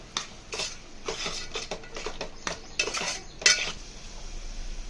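A spoon stirs salt into egg curry in a metal pot, with a series of quick, close scrapes and light clinks against the pan and a soft simmering bubble beneath.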